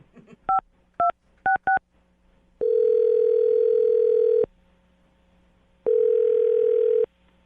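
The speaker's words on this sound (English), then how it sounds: "I'm dialing his phone number right now." A telephone being dialed: four short DTMF keypad beeps in quick succession, followed by two long, steady ringback-style tones with a pause between them, clear and close with no talking.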